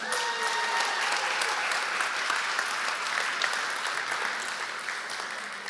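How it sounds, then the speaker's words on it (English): A church audience gives a sustained round of applause for the people called up front, even and dense throughout and slowly easing at the end. "Give these guys a round of applause."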